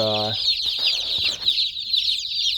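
Young meat-bird chicks in a brooder give a steady stream of high, thin peeps that overlap continuously, close by, with a few soft low knocks early on.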